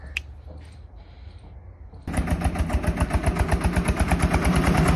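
A tractor engine, quiet and distant at first, then starting up close and loud, settling into a rapid, steady, pulsing idle that continues to the end.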